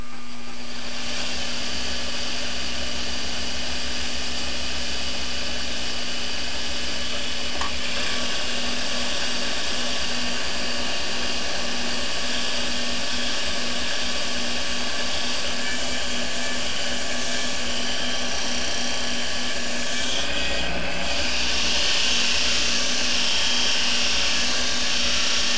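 A wood lathe spins a turned wooden box as shellac goes on, giving a steady, loud motor whine and hum that runs unbroken for the whole stretch, with only slight changes near the end.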